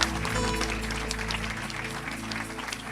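A congregation at a revival meeting in Evry breaks into dense, sustained applause, with many hands clapping steadily throughout.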